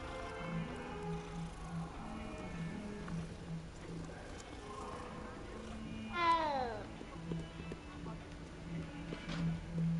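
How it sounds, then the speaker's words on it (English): Cat in the video game Hogwarts Legacy gives a single short meow over ambient game background with footsteps and a voice talking nearby. "It's a kitty."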